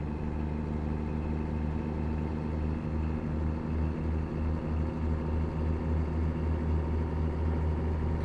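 Steady low truck engine idle drone in the American Truck Simulator game, a continuous even rumble with no talk over it.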